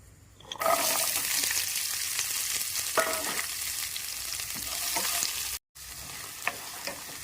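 Six dried red chillies crackling in hot oil for tomato chutney, a loud continuous sizzle that bursts in suddenly, cuts out briefly near the end, then resumes with small pops.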